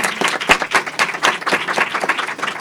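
An audience at a book presentation gives welcoming applause, a dense burst of many hands clapping close and loud, with a few sharper individual claps standing out through the short stretch.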